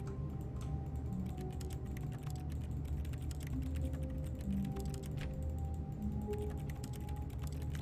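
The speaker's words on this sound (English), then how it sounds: "I'm typing." Keyboard typing inside the video game The Stanley Parable, a steady run of quick clicky keystrokes over a constant low hum, moderately loud and continuous with no talking.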